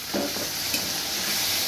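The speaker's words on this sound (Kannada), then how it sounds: "ಟೊಮೆಟೊವನ್ನು ಹಾಕ್ಕೊಳ್ತಾ ಇದ್ದೀನಿ" Chopped tomato goes into hot tempering oil for palak paneer and fries with a bright, continuous sizzle as a spoon stirs through it, close and steady without talk.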